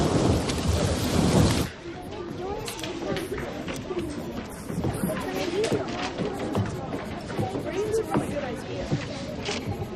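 Heavy rain pours down during a thunderstorm outdoors, a loud burst of thunder at the start giving way to a dense, steady hiss of rainfall with scattered drops and rumbles.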